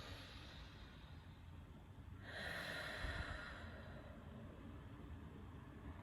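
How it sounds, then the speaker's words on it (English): A narrator draws one long, slow breath, a soft airy inhale swelling for about a second and a half in a quiet room, with no talking around it. "Let's all take a long breath right now."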